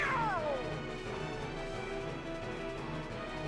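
A fat, pampered cat meows in Kingdom Hearts Birth by Sleep, a single descending cry at the start, fading into a dense, busy game soundtrack and effects that persist throughout.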